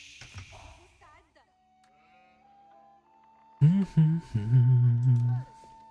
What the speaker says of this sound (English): They also have one sheep, by the way.